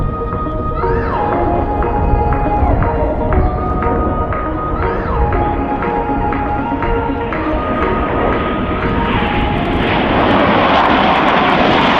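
Two Mirage 2000 fighter jets fly a close-formation spiral pass at an airshow, a loud sustained engine roar with shifting whining tones that rises and thickens toward the end, no voices.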